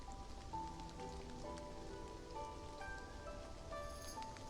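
Rain in the game Love and Deepspace, a steady soft patter of drops on a surface with faint tonal game sounds mixed in, continuous and even throughout with no talking.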